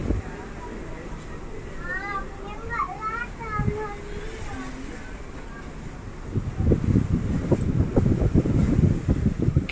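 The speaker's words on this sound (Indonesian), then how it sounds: "Yang kenceng itu angin." Strong wind blows across the deck of a passenger ship on a Jakarta to Kupang voyage, a rough, gusting roar on the microphone that grows louder and buffets in the second half, with voices, a voice among them, talking faintly underneath.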